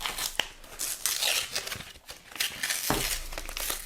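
Sticky plastic packaging is torn and crinkled off a metal steelbook case: close, loud ripping and crackling in uneven bursts, with a sharp tug near the end.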